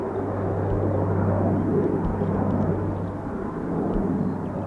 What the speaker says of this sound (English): Beechcraft Shadow, part of the I-Star.